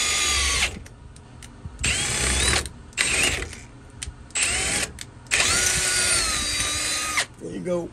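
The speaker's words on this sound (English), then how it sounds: "It's always good to keep your drill bits lubed, especially drilling through steel with these black bits." A power drill fitted with black bits bores through steel on a RAM 1500 pickup, whining in several loud bursts of varying length, separated by short pauses.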